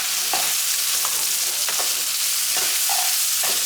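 Cut potatoes and pumpkin stems hissing in hot oil in a pan, a continuous sizzle with a few sharp utensil taps and scrapes breaking through at intervals.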